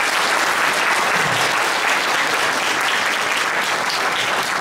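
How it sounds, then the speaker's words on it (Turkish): An audience at a Turkish folk minstrel festival at Van Yüzüncü Yıl University breaks into dense, sustained applause, loud and unbroken throughout with no speech. "Murat Oto'yu bir alkışlayınız lütfen."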